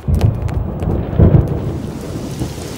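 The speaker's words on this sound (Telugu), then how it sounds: "ఫోన్ ఎట్టగానే ఉరుములు మెరుపులు వచ్చేస్తున్నాయంటే వెంటనే వర్షం వచ్చేద్ది." Thunder rumbles deep and heavy through a rainstorm, with a loud roll near the start, a second swell around the middle and a steady wash of rain that continues to the end.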